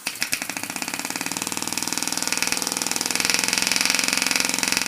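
A 3D-printed multi-cylinder compressed-air engine runs with rapid, even mechanical chuffing pulses that quicken and grow louder over the seconds, close and alone, with hissing air under the beat.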